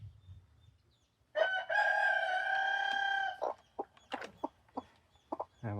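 A silkie chicken clucking and calling up close, one long drawn-out harmonic call followed by a string of short, sharp clucks at an irregular rhythm.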